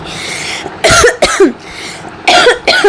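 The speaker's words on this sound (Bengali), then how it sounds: "মানে এটা কেমন কাশি আমি বুঝি না" A person coughs several times in harsh, separate bursts, loud and close, with short pauses between them.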